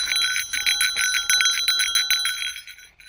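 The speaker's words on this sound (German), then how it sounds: "Es ist eine Bärenglocke." A small bear bell jingles rapidly and brightly up close, a quick rattling tinkle that shakes continuously before fading out as it stops.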